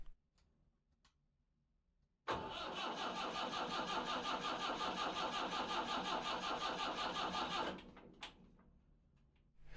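A vintage yacht engine cranks steadily for about five seconds, a loud continuous whir with a rapid pulsing rhythm, then stops without catching, leaving a quiet background.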